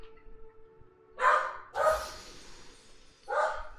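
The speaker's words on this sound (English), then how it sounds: "Nar, why are we barking?" A dog barks three times in short, fairly close bursts, spaced about half a second to a second and a half apart, with quiet background between the barks and no talk.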